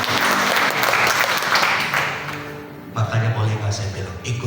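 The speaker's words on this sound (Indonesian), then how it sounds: "Kita berikan tepuk tangan buat Tuhan." Applause from a church congregation during a Sunday morning service, a dense wash of clapping that swells and holds for several seconds, with a voice speaking over it near the end.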